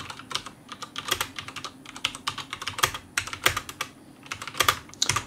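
Typing on a SteelSeries Apex M500 mechanical keyboard with red switches: a steady run of close, fairly soft key clacks in irregular bursts, with no talking.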